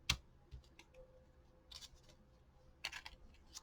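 Scissors fussy cut around shapes in paper for a junk journal collage, making a few quiet, close snips and crisp paper rustles in short bursts separated by pauses.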